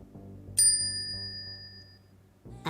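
A notification bell sound effect rings once, bright and clear, with a long ringing decay over a soft low background tone, then a second chime begins at the very end.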